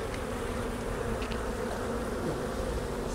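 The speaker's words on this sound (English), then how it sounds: "I'm assuming the bee must have been in the water." A bee that has fallen into water buzzes steadily and continuously at close range, a droning insect whine with no voices over it.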